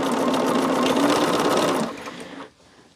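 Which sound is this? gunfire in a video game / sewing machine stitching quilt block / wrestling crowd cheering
sewing machine stitching quilt block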